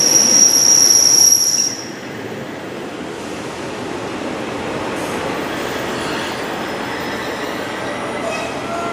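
A Great Western Railway class 143 train's wheels squeal at Newton Abbot station, a loud piercing high whine that cuts off after about two seconds, leaving a steady rumble of rolling stock.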